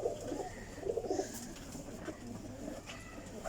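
Female pigeons, including a Rampuri hen, coo softly in a few low, rolling pulses, faint and close in a quiet space.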